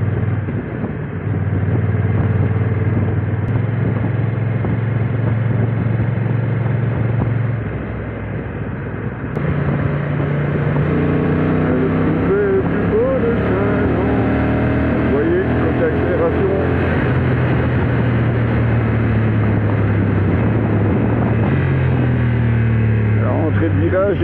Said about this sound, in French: cette moto est très agréable sur autoroute, mais aussi ici dans les petits chemins comme ceux-ci